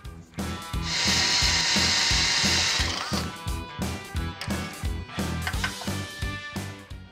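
Drill boring a mounting hole in a metal bracket at a fabrication table, a loud whirring burst with a high whine for about two seconds, followed by rhythmic mechanical thumps and clatter.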